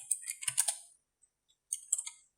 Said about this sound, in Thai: พิมพ์คำว่า notepad